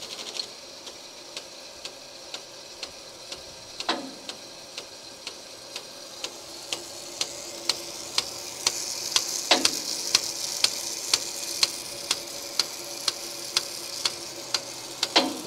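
Rotating irrigation sprinkler spraying water across a field, giving a steady, faint hiss broken by regular ticking clicks as the head steps around, with a couple of louder bursts and no talk.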